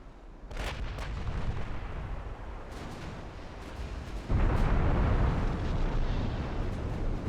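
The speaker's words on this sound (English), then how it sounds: "We just took some 17-inch hits." Heavy 17-inch naval shell hits from a naval warfare video game: dense rumbling booms and blasts, loud and sustained, with a sharp bigger impact surge midway and scattered crackling bursts on top.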